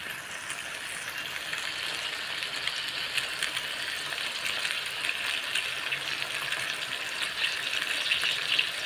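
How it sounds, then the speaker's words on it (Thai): Meatballs stir-fried in a seasoned pan give a steady, close frying hiss that runs unbroken throughout, with faint scraping from stirring and no talking. "ผัดไปเรื่อยๆผัดให้เข้ากันนะคะ"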